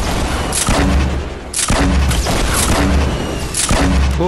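Gunfire in the Fortnite Battle Royale video game, four loud sharp booming shots spaced about a second apart, each with a heavy low thump and a short ringing tail.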